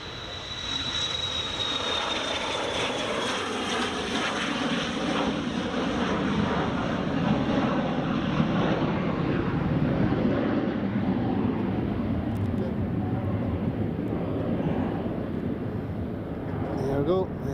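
A WestJet airliner departing Edinburgh Airport, its engines a strong sustained roar with a high whine fading early, mixed with wind buffeting on the microphone and a voice speaking over it.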